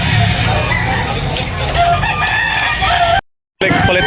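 Roosters crow loudly and continuously at a busy chicken market, with clucking and overlapping crows close by and a brief cut to silence near the end.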